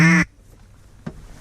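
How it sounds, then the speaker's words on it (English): A single loud, close duck quack on a duck hunt, sharp and nasal, followed by a short pause and a faint second call or knock. "Duck out front."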